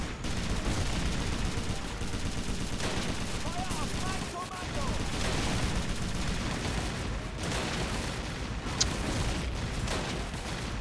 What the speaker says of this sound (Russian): По мне уже просто все, все долбят, все, все орудия.